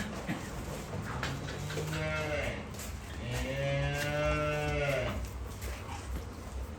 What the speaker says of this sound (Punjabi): ਹਾਂਜੀ ਆਹ ਵੱਛੀ ਹੈ